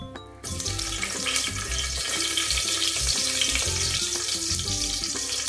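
Green chillies go into hot oil after brinjal has been fried, bursting into a loud steady sizzle that continues with crackling throughout.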